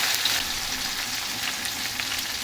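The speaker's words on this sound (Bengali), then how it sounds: "পেঁয়াজ ভাজার সাথে আমি আদা রসুনের পেস্টটা দিয়ে দিই" Onions fry in oil with ginger-garlic paste for biryani, giving a continuous close sizzling hiss with a soft bubbling undertone and no voices.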